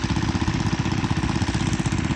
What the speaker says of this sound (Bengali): 2টা মেশিন লাগানো হয়েছে, কার্যক্রম চলতেছে